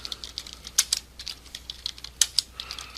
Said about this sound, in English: I'm gonna type the following,